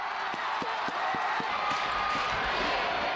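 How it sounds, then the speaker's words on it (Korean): A man cheers loudly in the stands at a basketball game, surrounded by a constant crowd roar, with a basketball bouncing in a steady rhythm underneath. "이제 마음먹은 듯 큰 소리로 응원을 해보는데"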